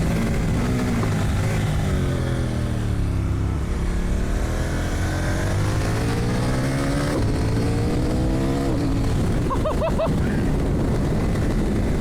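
CFMOTO 800NK motorcycle riding spiritedly, engine droning steadily with rising and falling revs, then a quick cluster of sharp exhaust pops on the downshift near the end, loud and close.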